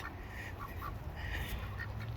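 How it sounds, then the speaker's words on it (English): Duck bathing in a backyard pond, several short quacks and splashy water sounds nearby over a low steady background, no talking. "One of my ducks over here in the pond taking a bath."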